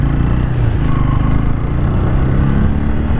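A motorcycle rides through narrow lanes early in the morning, its engine a loud, close, steady drone with low rumble and wind buffeting and no clear revving.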